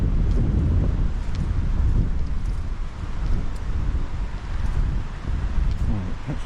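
Wind gusting across a lakeside in an arboretum, a continuous low rumbling buffet on the microphone that swells and eases without pause.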